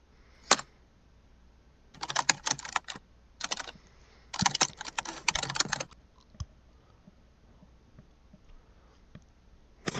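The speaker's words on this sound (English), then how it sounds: "You can hear me typing way too loud." A computer keyboard clatters close to the microphone during a podcast recording, with fast bursts of typing broken by pauses and a few isolated key taps.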